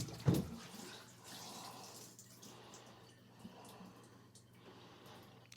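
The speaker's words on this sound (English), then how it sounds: "I'm going to pour an entire gallon of antifreeze down the shower drain." A full gallon of antifreeze poured down a shower drain in a cabin or RV, a close, soft liquid gurgle and splash that starts with a brief sharp splash then continues as a faint steady trickle, no speech.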